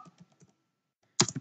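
Several light keystrokes tap on a computer keyboard, a short pause, then a louder cluster of clicks up close, with no talking.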